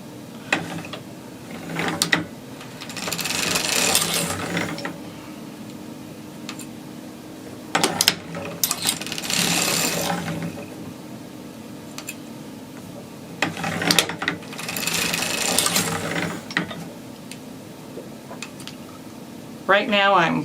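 A circular sock knitting machine is cranked by hand in repeated bursts of clattering, ratcheting needle action, with quiet pauses between runs; a voice talks softly at times.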